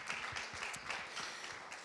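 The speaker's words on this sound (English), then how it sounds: "Everyone in the room deserves a round of applause" An indoor audience at a community meeting in Orlando claps, a soft, steady patter of many hands heard from a distance and continuing without a break.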